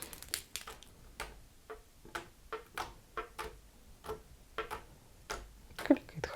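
Bubble slime squeezed by hand, giving a string of sharp, quiet clicks and pops in an irregular rhythm, close up and alone with no voice.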